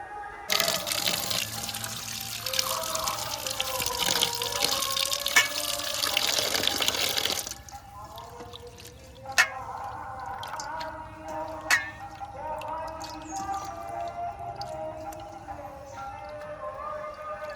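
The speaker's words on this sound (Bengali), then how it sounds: "চিংড়ি মাছগুলো ভালো করে বাছা হয়ে গেছে, এবার ধুয়ে নিয়ে আসবো" Prawns washed under a running kitchen tap: a loud, steady gush of water for about seven seconds, then the flow stops, leaving quieter drips, splashes and light handling noises.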